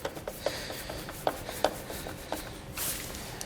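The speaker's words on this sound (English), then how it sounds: "we can go ahead and take our Phillips head screws that hold the taillight to the body of the vehicle" Phillips head screws being driven back in to hold a taillight to the body of a 2018 Kia Sportage, heard as faint scattered clicks and scraping rubs close by with no talking.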